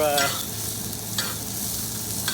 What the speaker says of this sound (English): this is when I start the basting process